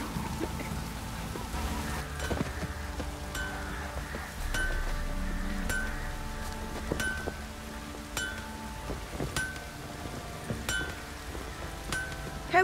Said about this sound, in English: This downpour